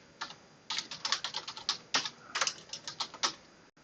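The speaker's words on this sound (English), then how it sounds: "I'll just type this out." Rapid, uneven keystrokes on a computer keyboard clatter in close succession for a few seconds, with short pauses between bursts of typing and no voices.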